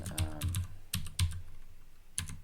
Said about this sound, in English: So I'm going to just go here and type in,